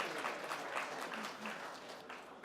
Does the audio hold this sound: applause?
yes